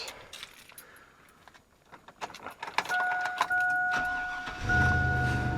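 Keys jingle and an ignition clicks, then a 2001 Chevy Silverado 1500 pickup engine cranks and catches into a steady low idle rumble close by.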